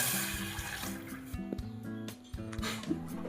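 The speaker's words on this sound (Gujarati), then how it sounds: "તો એમાં સૌપ્રથમ એક ગ્લાસ પાણી લઈશું આપણે" A glass of water is poured into a cooking pot for making khichu, a close, splashing trickle with irregular gurgles over a few seconds.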